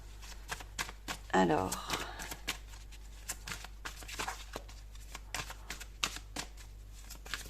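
Tarot cards riffle and slap as a deck is shuffled and cards are drawn and laid down, a crisp burst followed by scattered close clicks and flicks, with someone speaking French softly throughout.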